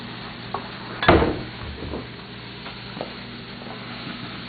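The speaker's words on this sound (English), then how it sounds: "since it's finally starting to cook, we stir it around" Food being stirred in a hot pan during a cook-off, with one loud scraping clatter near the start, then soft sizzling and a few lighter utensil taps.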